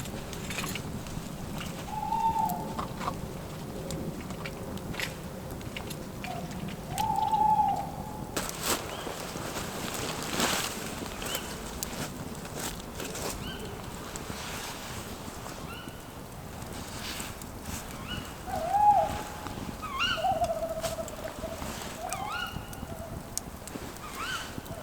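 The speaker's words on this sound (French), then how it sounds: "ce qu'on entend, c'est plusieurs chouettes" Several owls hoot in a night forest beside a hammock bivouac campsite, soft repeated calls at a moderate distance, spaced several seconds apart over a steady wash of background noise; no one speaks.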